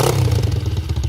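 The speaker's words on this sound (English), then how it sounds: "We are getting a little bit of a knocking from the engine at the minute" Close, loud dirt bike engine idling with a rough, rapid rhythmic knocking pulse, a clattering beat over the low mechanical drone with no voices.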